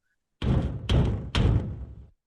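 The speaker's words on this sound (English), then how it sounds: "she hears a knock at the front door, and it's a loud knock" Three loud, heavy knocks pound on a front door in quick succession, each a booming thud with a short decay, close and alone in otherwise quiet surroundings.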